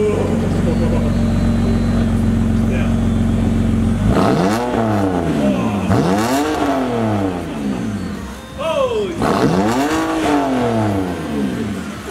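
A BMW with a muffler delete and exhaust cutout idles loudly, then revs hard three times in close, rising-and-falling bursts, with a brief dip between the later blips.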